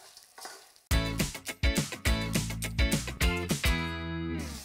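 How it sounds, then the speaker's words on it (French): Prawn heads and shells sizzling hard in a sauté pan as they brown, with repeated stirring scrapes and bursts of crackling heard up close. "mes têtes, mes carapaces, je mets ça dans la sauteuse et on va faire colorer"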